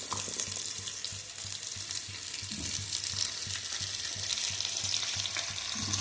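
Small onions and garlic sautéing in a pan for village-style chicken kulambu, a constant close sizzle and crackle with faint stirring and a low background hum, no talking.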